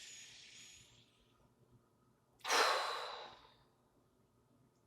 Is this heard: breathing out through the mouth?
yes